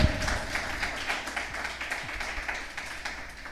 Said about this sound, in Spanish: Dale un aplauso al Señor, porque Él solo lo pudo hacer.